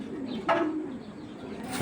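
A Giribaz pigeon, an old-breed pet pigeon, coos softly and steadily close by, a low continuous murmur running through the short moment.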